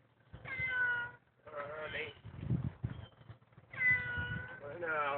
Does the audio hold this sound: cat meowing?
yes